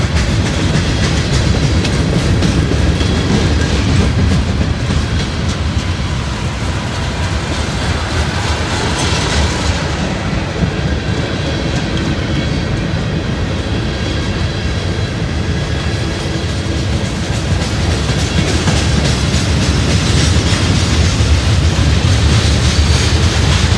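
A long freight train of 159 cars rolls past close by on a cold day, a loud unbroken roar of wheels and rattling wagons with rhythmic clickety-clack running the whole length.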